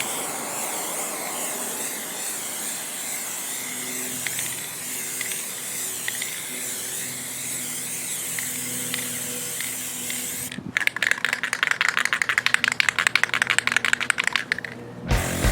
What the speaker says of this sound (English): he'll begin to apply a number of spray coats to create an even and yet smooth coating on the back side of the glass tank